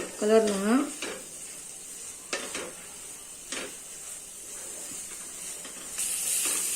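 Carrot halwa with roasted cashews and almonds being stirred in a pan, making soft scrapes and a low hiss, with a brief voice near the start and a brighter sizzle toward the end.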